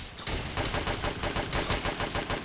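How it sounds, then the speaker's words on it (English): Rapid, steady bursts of gunfire in the Roblox trench-warfare game Entrenched, close and loud, with shots repeating in quick succession for the whole stretch and no talking. "So, it could be sniper fire."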